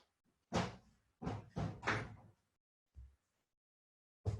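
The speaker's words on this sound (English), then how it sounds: "I'm just going to close the door" A door is handled and closed indoors, several loud bumps and thuds in quick succession followed by a softer knock and another thump, with quiet gaps between them.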